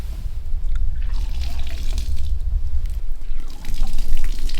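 Tap water runs and splashes steadily at close range, rinsing an Invisalign aligner at a campsite, a continuous trickling flow with a brief swell near the end.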